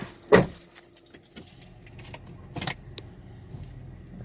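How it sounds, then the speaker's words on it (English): The gear selector of a 2003 Honda Accord V6 automatic moved through its positions, giving a sharp loud click at the start, then a few softer clicks and clunks over a quiet background hum. "I'm gonna run it through the gears."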